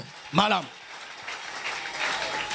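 A church congregation applauds at a French-language service. A voice shouts briefly at the start, then the clapping and cheering build softly, a little distant and rising toward the end.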